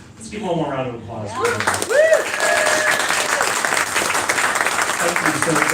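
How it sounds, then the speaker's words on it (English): Conference audience at a Sunday Assembly gathering breaks into a round of applause, starting after a brief spoken phrase and swelling into loud, sustained clapping with a few cheers and whoops. "Let's give one more round of applause."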